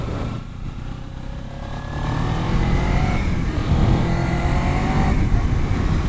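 A Kawasaki Ninja 300 sport bike being ridden, its engine droning loud and close under wind rush, with the pitch dropping and climbing again as gears shift and it accelerates.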